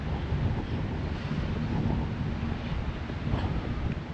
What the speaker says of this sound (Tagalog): Medyo mahangin siya.